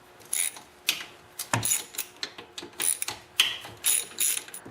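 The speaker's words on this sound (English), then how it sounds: "Now I'm going to take off all the 3/8 bolts all around the cover." A hand ratchet backs out 3/8 bolts around the cover of a knocking Tecumseh snowblower engine: repeated short bursts of fast, sharp clicking separated by brief pauses, up close.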